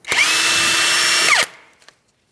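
Power tool spinning off a 24mm jam nut on a tie rod of a 2007-2014 Ford Edge: one loud, close, steady whir lasting over a second, then winding down, followed by a couple of faint clicks.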